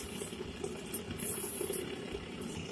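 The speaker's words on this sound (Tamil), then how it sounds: "நல்லா கொதிச்சிருக்கு." Water at a rolling boil in a pot for Madurai-style ghee rice, a steady close bubbling and churning hiss that stays even throughout with no talk over it.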